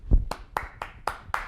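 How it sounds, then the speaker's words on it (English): Round of applause as brief, separate claps, about five sharp hits spaced roughly a quarter second apart, fairly quiet and alone. "round of applause. Round of applause."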